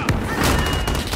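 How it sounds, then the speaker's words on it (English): Rapid gunfire in Call of Duty: Modern Warfare Warzone, a short cluster of sharp cracking shots close by, loud and dense over about a second. "He's shooting me."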